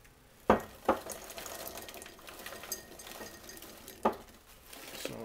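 Blueberries poured from a bag into a glass jar, heard as a few separate rattling bursts of small berries dropping onto glass, with quiet pauses between them.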